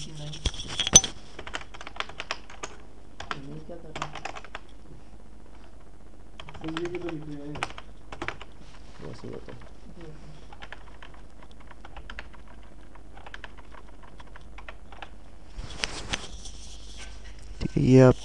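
Someone types on a computer keyboard in scattered bursts of quick clicking keystrokes, with pauses between them, while someone talks over parts of it.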